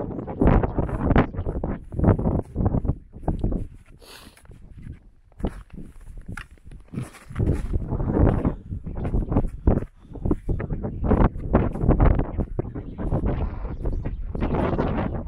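Strong, gusty wind on a mountain summit buffets the microphone in loud, uneven bursts, with rumbling gusts rising and falling and no clear voices.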